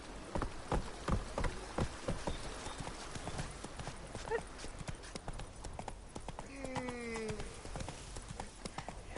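The horse Roach's hooves clip-clop at a steady riding pace in The Witcher 3: Wild Hunt, Blood and Wine, loud and continuous over background noise, with a short neigh-like call near the end.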